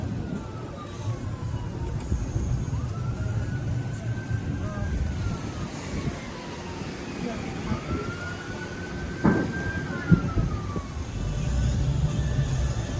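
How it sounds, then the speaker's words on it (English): An ambulance siren wails past a parked car, its rising and falling sweeps rising out of steady low road and engine rumble, fairly distant, with a couple of sharp knocks near the end. "There's an ambulance coming."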